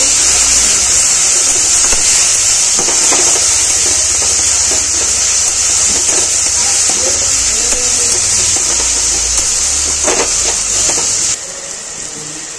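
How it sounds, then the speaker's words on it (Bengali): Grated tomato frying in a pan with onion, a loud, dense hissing sizzle that holds steady and then drops suddenly in level near the end. "টমেটো গ্রেট দুটো দিয়ে দেবো। টমেটোটা ভালো করে ভেজে নেব।"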